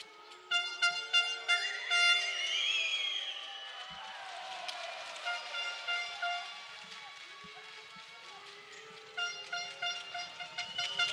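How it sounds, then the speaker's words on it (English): Blaring air horns from Turkey fans sound repeatedly over a noisy arena crowd at a women's EuroBasket 2013 basketball game, Turkey versus Sweden, with squeaking shoes and scattered thuds in between. "Those air horns from Turkey."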